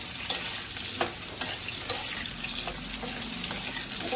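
Potol (pointed gourd) and potato pieces fry in mustard oil with a steady, busy sizzle, punctuated by a few sharp clicks and knocks of stirring against the pan.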